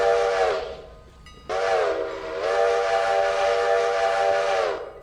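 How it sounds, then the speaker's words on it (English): A steam locomotive whistle in the railroad simulation game Railroader blows three long, loud harmonic blasts, a short one first and then two sustained ones, with a brief gap between them and no talk over them. "Let the train stop whistling there."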